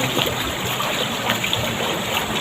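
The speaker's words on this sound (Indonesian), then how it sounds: "ini salah satu anak Sungai Pikatan yang menjadi saluran irigasi" Water runs along an irrigation channel that branches from the Pikatan River, a steady, close rushing and trickling wash with no pauses and no voices.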